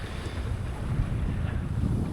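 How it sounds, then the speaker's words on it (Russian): Strong wind roars across a sailboat under way, a steady broadband rush with low buffeting and wash from the hull, close and continuous with no voices. "Ветер поднялся, скорость 6."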